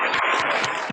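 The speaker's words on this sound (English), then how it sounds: "Another round of applause for the one" Audience applause at a live-streamed poetry event, a dense steady wash of clapping filling the whole second before cutting off abruptly near the end.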